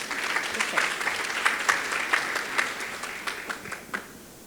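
An audience at a nutrition and muscle-building lecture claps to welcome a speaker, moderately loud applause with some distinct individual claps standing out, fading slightly by the end.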